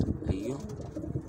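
Shami pigeons coo softly in a short, low, throaty burst close by, with someone talking over the birds.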